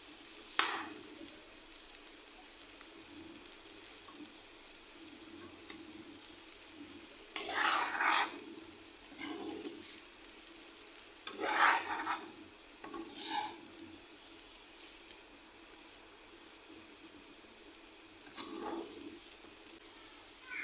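Faint scraping and stirring of potato and yardlong bean fry with spices in a pan, soft intermittent clatters over a low sizzle, recurring every few seconds.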